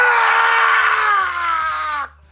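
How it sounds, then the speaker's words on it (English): A voice actor playing a character in a Dungeons & Dragons show lets out one long, loud scream of pain that holds strongly for about two seconds and then cuts off abruptly. "hearing him scream in pain"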